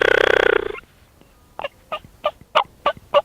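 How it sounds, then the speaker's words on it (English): Wild turkeys gobble in a valley below, a loud rattling gobble up front followed by a rapid series of short sharp calls, clear over a quiet background. "The birds are gobbling like crazy in the valley below us"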